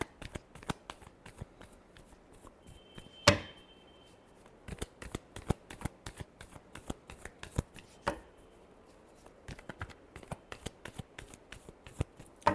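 Tarot cards shuffled by hand in a quick run of crisp riffling snaps, with one sharper clack early on, close and alone without talk.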